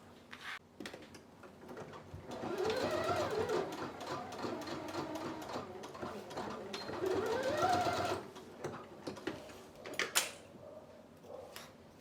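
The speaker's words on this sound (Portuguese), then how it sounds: "Fiz a minha primeira costura, parei meio centímetro antes." A home sewing machine stitches a small oral hygiene kit pouch, humming steadily and moderately close for several seconds, framed by handling clicks and rustles before and after.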